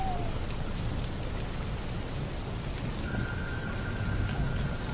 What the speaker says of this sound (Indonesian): terjadi hujan lebat malam itu